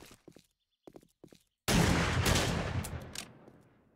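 A gun firing breaching rounds in the zombie survival game 7 Days to Die: a few faint clicks and footsteps, then one loud close blast with a long rumbling decay.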